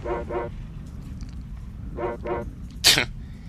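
A dog in the video game Secret of Evermore barks twice in quick pairs, then again twice, followed by a short sneeze-like burst, over a steady low background hum.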